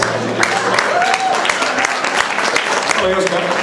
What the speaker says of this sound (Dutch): mag ik alvast een applaus voor Joska Nefkens.